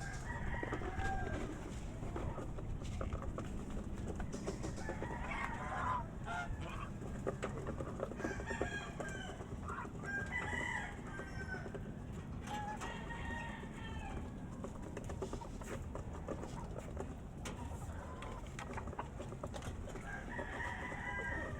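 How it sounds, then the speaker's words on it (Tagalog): A hen clucks repeatedly at a home yard, with other chickens and a rooster crowing nearby, birds calling at moderate distance over steady outdoor background noise. "Ang kasunod naman po niyan mga kaubayan ay itong aking inahin."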